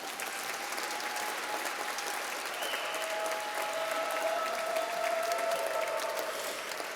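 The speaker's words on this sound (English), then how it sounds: "We'll give her a round of applause first." Ceremony audience at the 2024 USA Gymnastics Hall of Fame gives steady, full-room applause for inductee Savannah Vincent, an even wash of clapping that holds for about seven seconds with no voices over it.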